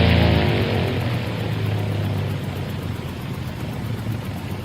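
An aircraft engine drones loud and close, a steady roar with a deep rumbling low end that eases slightly after the first seconds and holds on, with no one talking.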